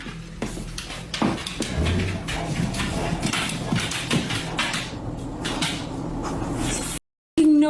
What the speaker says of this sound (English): We have some knocking at the door.